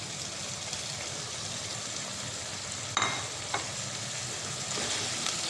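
Beef keema and tomato fry in a pan with a steady, close sizzle, broken by a couple of sharp spoon scrapes and clacks partway through; no one talks.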